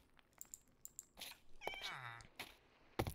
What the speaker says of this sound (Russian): А, кошка, ты куда залезла?